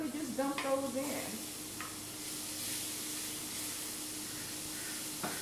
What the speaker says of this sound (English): We want the pot hot so that it will actually sear the mushrooms.